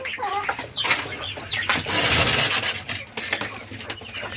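Chickens and chicks clucking and cheeping close by inside a coop, busy overlapping calls with some wing flapping and shuffling as someone moves among them.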